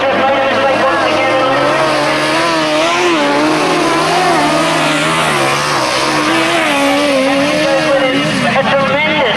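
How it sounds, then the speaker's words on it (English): Sidecar outfits on a motorcycle grasstrack race course roar past loudly, their engine notes rising and falling as they accelerate and change pitch, with a commentator speaking over the racing throughout. "A tremendous sidecar race this one is"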